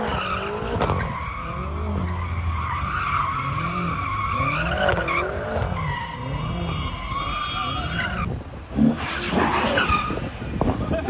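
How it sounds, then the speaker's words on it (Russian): A car engine revs hard while its tires skid and squeal in long, wavering sweeps, loud and close, with one sharp knock near the end. "Хазбик газует там."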